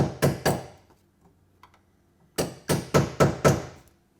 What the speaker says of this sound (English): Sometimes all it takes is a hammer, and anything can be used as a hammer.